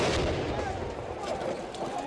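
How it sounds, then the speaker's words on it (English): Grenade blast at close range, a few meters away, during a clash between police and protesters at Phan Fa Bridge, with dense crackling noise and loud crowd commotion running through the whole short stretch. "captured a grenade attack just a few meters away on camera"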